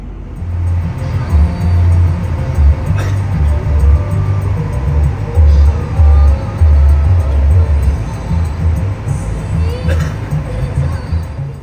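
An intercity bus rumbles out of the terminal at night into heavy traffic in Solo. Its low engine drone runs continuously and loudly under faint surrounding road and crowd noise.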